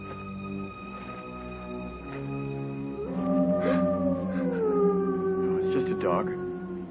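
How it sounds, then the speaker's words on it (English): A dog howls at a desolate country place in a 1979 horror film, a long, wavering, drawn-out howl rising mid-clip over a droning tonal background and a brief voice. "Dog."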